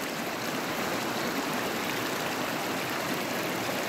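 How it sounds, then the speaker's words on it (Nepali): The Tapa Khola mountain stream flows below the Nange Lek cliffs, a steady, even rushing roar of water heard close and alone, with no voices. "यो ताप खोला बगिरहेको छ, खाने पानी झन् खोलामा बगिरहेको छ।"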